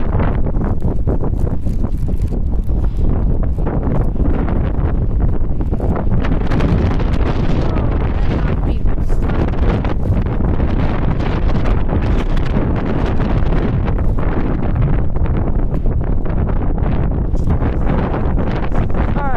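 Strong wind buffeting a microphone outdoors during a walk, a loud, continuous rumbling roar with gusty surges throughout, and a voice faintly underneath.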